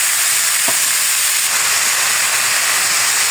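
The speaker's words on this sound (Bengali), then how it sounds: "ওই তেলের মধ্যেই এই সবজিগুলো শুক্তোর কষিয়ে নিই" Vegetables for shukto sauté in hot oil in a pan, a steady loud hiss and sizzle throughout with one faint clink near the start.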